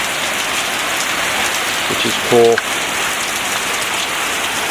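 Heavy rain falling outside during a lightning storm, a loud dense steady hiss close by, with a brief clank and a short spoken remark over it.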